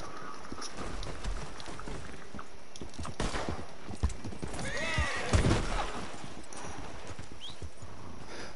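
Horse hooves clip-clop steadily in a video game, a continuous trotting patter with a brief whinny in the middle, loud and close over ambient game sound, with no speech.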